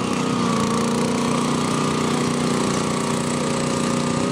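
Gravely 20-horsepower rear-engine garden tractor straining as it pulls a stone boat at a fair pulling contest, a loud, steady, close engine roar that holds throughout without pause.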